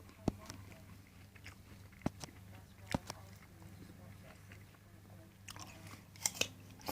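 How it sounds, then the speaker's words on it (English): Crunchy bites into a shop-bought Gala apple, several sharp crunch transients spread over a few seconds with quieter chewing between, close and moderately faint over a low steady hum. "this apple is crunchy, almost tasteless"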